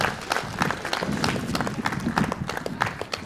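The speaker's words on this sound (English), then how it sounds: "can we give a round of applause to the teachers and students?" A crowd at a San Francisco school celebration gives teachers and students a short round of applause, dense steady clapping heard from within the audience at moderate level.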